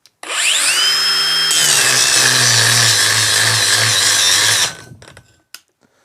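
A Makita brushless angle grinder spins up with a rising whine and cuts steadily for about four seconds in a loud, continuous, close-up grinding drone, then winds down to quiet clicks and rattles.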